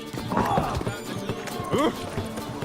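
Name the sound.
hoofbeats of the horse Roach in the Witcher 3 video game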